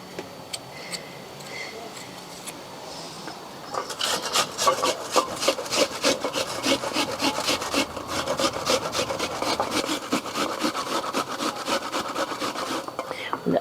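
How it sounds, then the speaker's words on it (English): Onion rubbed against a grater for smash burgers cooked on a fire, a rapid, rhythmic rasping scrape close by, continuing steadily for about ten seconds after a quieter start. "Let's start with grated onion."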